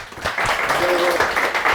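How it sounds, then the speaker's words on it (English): An audience at a rambling house music show in Dromahair, County Leitrim, in the west of Ireland gives a singer a round of applause: steady, dense clapping from a roomful of people, fairly loud and sustained. "Give her a round of applause there."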